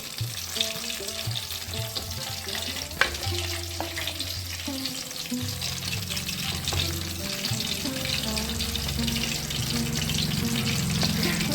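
Eggplant (brinjal) slices fry in a pan of hot oil, a loud close sizzle with stirring scrapes that thickens into a steadier, fuller bubbling roar.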